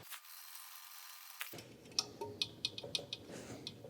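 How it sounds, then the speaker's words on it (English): A small needle file rasps at a hole in a metal jig, opening it up to fit a 3/16 rod. Short, irregular, close scraping ticks start after a quiet moment, with no talk. "little needle file, we'll just open this up a little bit until this 3/16 rod fits in nicely"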